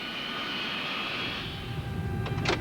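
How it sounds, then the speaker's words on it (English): DC-9 jet engine spinning up on a pneumatic starter in the cockpit, a steady high whine and broadband rush that holds level throughout, with a couple of brief clicks near the end. "a pneumatic starter motor, controlled from the overhead panel, winds the engine up to starting speed"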